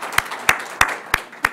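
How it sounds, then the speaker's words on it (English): Applause for morning presenters at an early childhood development conference session: five separate, crisp claps at a slow, even pace, close and distinct, with quiet room tone between them. "So let's give another round of applause to our morning presenters."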